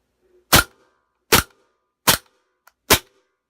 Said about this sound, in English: I'll do a few shots with the semi and a few shots of the full auto.